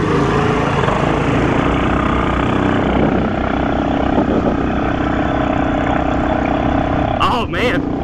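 A Hurricane mini bike engine revving hard on a steep high-altitude climb in the Rockies, a loud, close, continuous buzzing drone that holds steady under strain with no pauses.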